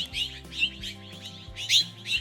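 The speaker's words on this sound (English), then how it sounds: "there's some birds greeting me this morning" Birds chirping on a morning mountain trail in Hunter Canyon, Huachuca Mountains, Arizona: a rapid series of bright, close chirps and tweets repeating over a low steady drone.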